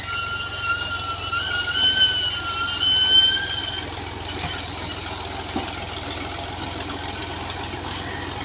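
A new tractor's engine runs steadily with a low, even chugging drone, close and loud, while high tonal whistles sound early on and a few knocks break in midway.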